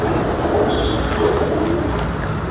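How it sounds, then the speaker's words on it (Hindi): A domestic pigeon kept by a pigeon fancier coos softly in a steady murmur, almost buried under constant broadband background noise, with no talking. "ये है दूसरा कबूतर।"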